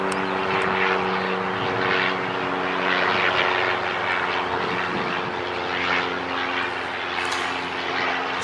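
A Southwest Airlines airliner takes off from Long Beach Airport, its engines giving a loud, steady broadband roar with droning tones that holds throughout, close and unbroken.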